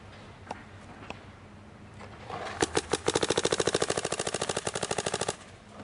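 A paintball marker fires a rapid burst of about twenty-five evenly spaced shots during a shooting practice drill. The shots are close and loud, with a few scattered single pops before the burst.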